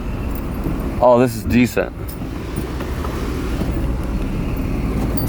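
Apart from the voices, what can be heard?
car backing up and being driven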